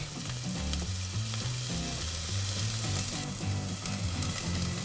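Onions and garlic sizzle in a hot pan while Italian rabbit meatballs are being prepared, a continuous frying hiss with a stepped, tonal melody playing underneath throughout.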